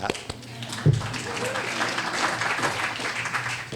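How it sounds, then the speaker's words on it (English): An audience applauds during a university event at Berkeley, with a sharp clap or knock near the start followed by sustained, fairly loud clapping, while a voice talks over it. "We should clap for"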